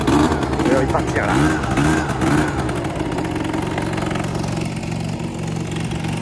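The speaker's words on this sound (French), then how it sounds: "Là le moteur est super agréable franchement." A motorcycle engine idles and then pulls away, a loud steady rumble with rising revs early before it settles into a continuous drone as the bike moves off, with someone talking over it.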